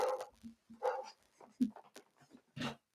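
Dog barking in a home, a few separate barks spaced irregularly with small whimpers between, faint and somewhat distant.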